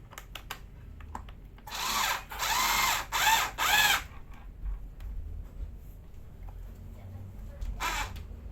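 A cordless electric drill-screwdriver whirs in several short bursts, revving up and stopping, with quieter clicks and handling noises between and a brief final whir.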